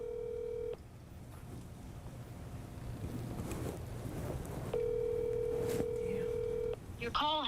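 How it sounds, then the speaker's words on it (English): Telephone dialing a call: steady tones sound at the start and again mid-clip against faint background noise and wind, with a short burst of electronic tones near the end. "we're going to go ahead and give her a call"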